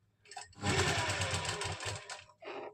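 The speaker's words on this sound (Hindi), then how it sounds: "एक सिलाई लगा लेंगे बड़े टांके की।" A sewing machine runs long basting stitches along the stone-work V-neck of a lined suit, using a single foot, in one steady close burst of rapid mechanical whirring with a short second run at the end.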